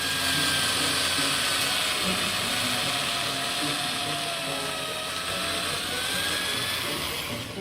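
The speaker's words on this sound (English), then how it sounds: "So you want to drill as straight down the carrot as possible." A drill bores into a carrot, running continuously with a steady high whine, boring slowly and evenly for the whole stretch, close and loud, with no talking.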